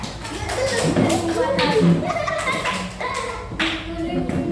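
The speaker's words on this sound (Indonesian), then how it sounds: "Ayo tepuk tangan untuk kelompok pengenalan pola." Students in a classroom clap for a presenting group, a loose patter of hand claps and taps mixed with thumps, shuffling and children's voices talking over it.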